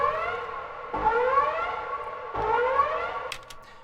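Synthetic storm siren from the video game Pacific Drive, a smooth wavering electronic wail with rising sweeps that restart twice, sounding loud and close with no talk over it.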